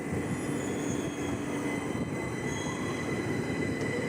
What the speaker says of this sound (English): I do love the traction motor sound of the 2009 stock